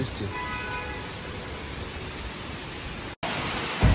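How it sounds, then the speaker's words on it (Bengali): Heavy rain in China falls in a dense, steady hiss of broadband noise, close and continuous, broken by a brief dropout near the end; faint speech-like sounds sit under the rain. "বৃষ্টির অবস্থা দেখেন এত বৃষ্টি হইতেছে"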